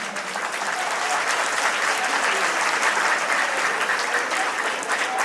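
Sustained, dense audience applause at a school's 30th anniversary celebration, steady and loud throughout with no break, crowd clapping filling the whole stretch.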